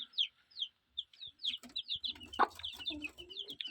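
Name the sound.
broody hen clucking with her chicks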